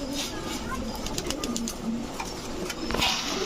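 A female Red Magpie pigeon with a bright red tail coos softly amid birdsong and background chatter, with sharp clicks and rustles scattered throughout.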